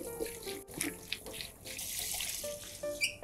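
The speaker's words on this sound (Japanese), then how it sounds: "ごぼうはまあ気になる方はね、ちょっとやっぱそのままにすると黒ずんじゃうから、さっとだけ洗っておきましょう。" Burdock root rinsed briefly under a running kitchen tap, a steady stream of water splashing into the sink with small clatters, close and moderately loud, no talking.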